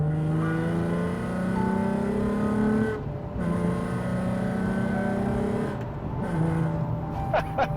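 A Nissan 350Z with a 3.5-litre naturally aspirated V6 pulls steadily while being driven, its engine note rising through the gears with brief drops at shifts, loud and close from inside the cabin.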